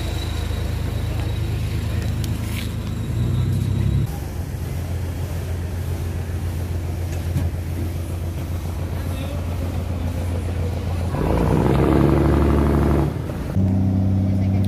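A crowded river ferry crossing the Xingu River at Altamira, Pará, with a steady low engine drone running throughout and a louder, throatier surge near the end, plus wind rushing across the microphone and faint talk in the background.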